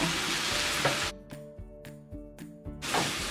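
Vegetables seasoned with paprika sauté on high to medium-high heat in a pan, a steady close sizzle running throughout with short breaks in the middle where the frying noise drops back.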